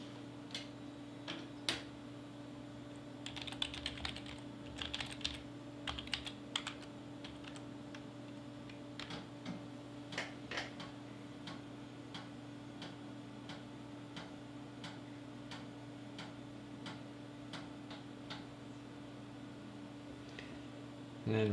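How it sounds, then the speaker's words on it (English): A high density floppy disk being formatted in its drive gives off quiet, irregular ticking and clicking head-step sounds over a steady low hum. Most clicks come in small bursts, with no talk. "Alright, so let's format the high density disk."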